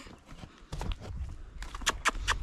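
Hooves of an old mare clopping on a farm: a few irregular clops, the last three sharp and distinct, over rustling movement and low background noise.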